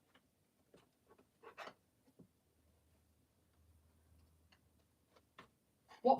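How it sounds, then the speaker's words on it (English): Plastic Lego bricks from a Flintstones set click together in small, sharp, quiet snaps, scattered irregularly with pauses between, one louder cluster at the end. "I just love the noise of Lego clicking together."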